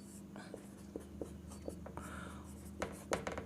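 Chalk or pen scratching out short strokes during a Hindi-language class 9 maths lesson on spheres, a series of soft, close taps and scrapes in an irregular rhythm with no talk.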